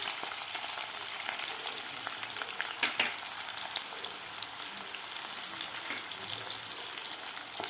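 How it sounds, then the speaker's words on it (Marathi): Vertically sliced onion fries in oil with bloomed cumin seeds, a continuous bright hiss and crackle of frying with faint occasional stirring, steady and fairly quiet throughout. "यामध्ये घालायचं आपल्याला उभा कापून घेतलेला कांदा।"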